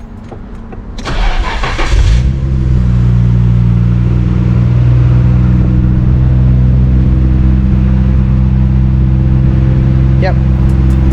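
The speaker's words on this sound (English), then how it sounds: "Let's hear how the GTR sounds in this quiet, closed off spot" A Nissan Skyline GT-R R32 starts up in a quiet, closed-off spot, then settles into a steady, loud idle. The engine drones on evenly, close by, with a faint brief noise near the end.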